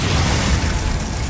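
A blasting spell in a video game goes off as a loud, roaring burst that fills the short moment, with a heavy low rumble and no gap.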